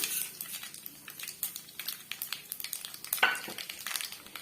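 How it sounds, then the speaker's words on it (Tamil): Mustard seeds popping and curry leaves sizzling in hot oil for a Tamil side dish, a rapid irregular crackle of sharp pops with one louder burst, close and fairly quiet, with no talk. "கடுகு நல்லா பொரிஞ்சு வந்துச்சு இந்த ஸ்டேஜில் நம்ம கொஞ்சமாக கருவேப்பிலை சேர்த்துக்கலாம்"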